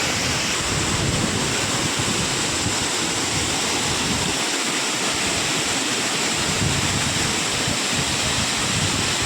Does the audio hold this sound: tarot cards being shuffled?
no